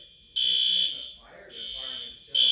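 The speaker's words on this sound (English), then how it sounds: "The neighbor's shower just set off the fire alarm." A smoke alarm, triggered by shower steam from next door, blares in loud, shrill electronic bursts with brief gaps between them. Indoors, late at night.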